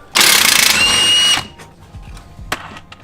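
A tool rattles a suspension nut and bolt loose on a 2013 Subaru WRX during a coilover install, a loud buzzing burst lasting about a second, followed by scattered metallic clicks and a sharp clank in a garage.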